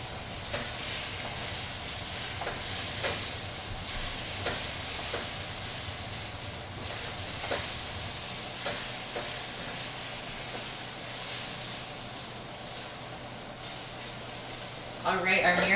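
Mirepoix for Japanese curry sizzles steadily in a hot pan, close and even, broken by repeated scraping strokes as it is stirred, with a low hum underneath and a louder burst of sizzle at the very end.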